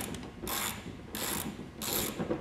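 A ratchet wrench with a 17 mm socket loosens a tight seatbelt bolt in a Mk4 R32 car, making three short bursts of rapid clicking separated by brief pauses.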